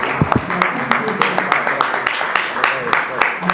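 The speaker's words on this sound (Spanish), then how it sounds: "Un aplauso para el doctor." An audience applauds a doctor at a formal event in Peru, a few seconds of scattered, steady hand-clapping from a modest crowd with voices mixed in.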